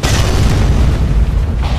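A tower under attack in Dota 2 gives off a deep, sustained rumbling boom, loud and close, with a heavy low-end roar throughout.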